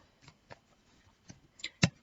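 Tarot cards shuffled by hand in a quiet room, giving a few soft, scattered riffling bursts that end in a sharper, louder slap as the deck settles.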